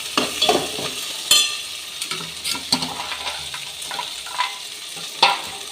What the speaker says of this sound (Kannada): ಸಾಫ್ಟ್ ಆಗೋ ತನಕ ಫ್ರೈ ಮಾಡ್ಕೋಬೇಕು